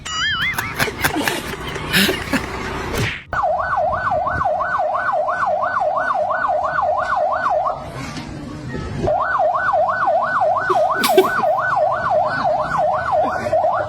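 A police siren wails nearby in a loud, fast rising-and-falling pattern that repeats steadily through most of the span, briefly interrupted midway, with some other noise at the start.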